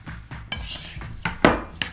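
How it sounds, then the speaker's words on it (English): Kimchi seasoning with red pepper flakes being mixed in a bowl, heard as close, rhythmic stirring and scraping with several sharper utensil knocks against the bowl. "I'm gonna mix this really well"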